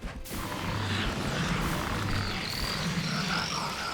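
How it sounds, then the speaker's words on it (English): Rain of Toads, the Witch Doctor spell in Diablo III, fills the scene with a dense, continuous chorus of croaking frogs, loud and unbroken over dull impacts. "you can see how much damage Rain of Toads does even on Inferno"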